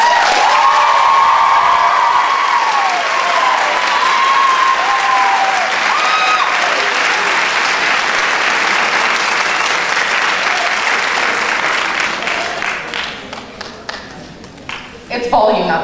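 Loud, sustained applause from a debate audience voting for the affirmative side at a college speech night, with whoops and cheers mixed in. The clapping fades and thins toward the end, leaving scattered claps.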